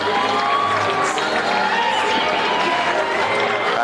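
Crowd at a men's water polo game giving a sustained ovation, steady applause and cheering filling the venue while an announcer talks over it.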